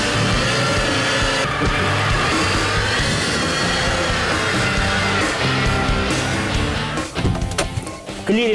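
A Chevy Niva SUV with airbag and ABS rolls along on a short test drive, a steady engine and road rumble running throughout with a few knocks and thumps near the end, no talk.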